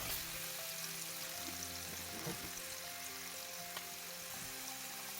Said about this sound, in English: I'm gonna dump it into the pan after oil has heated up